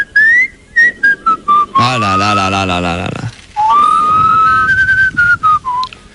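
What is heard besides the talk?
person whistling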